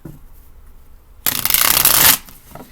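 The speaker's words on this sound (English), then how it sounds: "So let's get into some cards for Virgo." Tarot cards shuffled close by, a single crisp riffling burst lasting under a second after quiet room tone.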